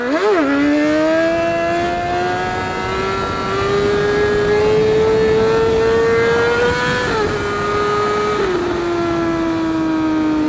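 A loud car engine revs up sharply at the start, then holds a steady high whine that rises slowly before dropping abruptly near the end, close and continuous, with no voices.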